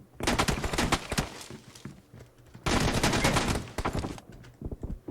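Gunfire in a shooter video game: dense bursts of rapid shots in two long volleys separated by a brief lull, loud and close, with scattered single cracks afterward and no talking.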